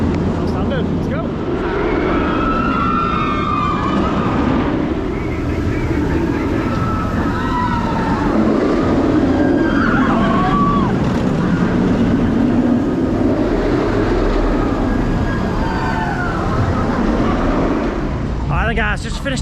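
Nemesis Reborn roller coaster ride with a constant loud rumble and rattling roar of the train on the track, wind rush throughout, and riders talking and shouting over it.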